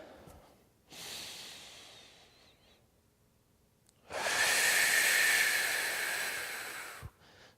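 Two long deep breaths during a beginner warm-up exercise, a softer breath in, then after a pause a louder, longer breath out lasting about three seconds, close to the mic with no talk.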